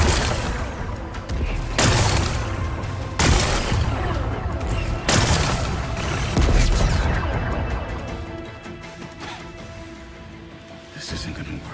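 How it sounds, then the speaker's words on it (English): Repeated booming explosions in the video game Horizon Forbidden West, loud and dense with crackling debris, several heavy blasts over a few seconds before fading into a rumbling tail. "It's exploding."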